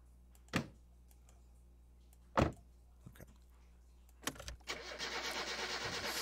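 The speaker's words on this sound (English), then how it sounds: "Start the car, I hope." Car engine started in the driving game My Summer Car with the choke pulled: a couple of sharp clunks and clicks, then cranking that catches into a steady, rumbling idle.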